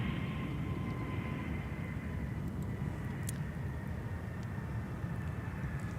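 An airliner landing on runway 12 Left at Minneapolis airport gives a steady broad rumble with a faint high whine, constant and moderately distant throughout; no one speaks.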